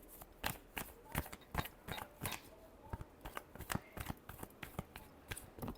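Tarot cards being shuffled by hand, a quick run of crisp riffling bursts repeating in an uneven rhythm, close and fairly quiet, with no talking.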